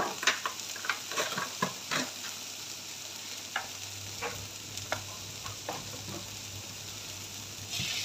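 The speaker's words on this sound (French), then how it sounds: "Et là, je pense que je vais mettre ma viande hachée." Minced meat with onion sizzles steadily in a hot pan, with scattered stirring scrapes and clicks over a constant frying hiss, fairly close and moderately quiet.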